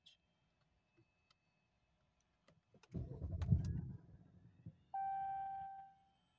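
A 2019 Jeep Cherokee responds to its push-button engine start with a faint click, then a low churning crank for about two seconds, followed by a steady tonal whine that holds briefly before cutting off, with no talk.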